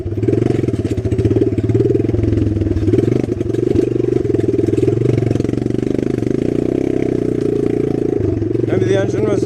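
A Gio250 enduro motorcycle engine runs steadily at a low, rough idle, its single-cylinder putter loud and close throughout, with a slight lift in revs midway and no voices.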